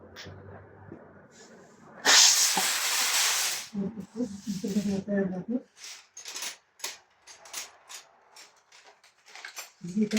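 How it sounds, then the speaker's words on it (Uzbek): A burst of compressed air hisses loudly through a hose for about a second and a half during car gearbox oil service work, followed by clattering tool and metal handling noises. "Endi balandga havoni ulaymiz shlangga."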